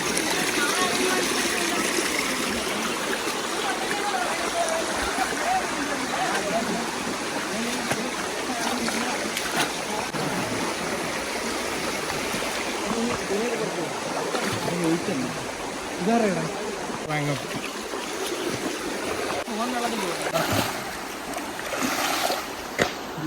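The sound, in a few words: waterfall and flowing water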